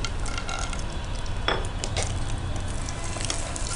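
Mustard seeds, cumin, chana dal and peanuts fry in hot oil for a tomato bath with foxtail millet, a steady close sizzle with light stirring and clinks of a utensil against the pan.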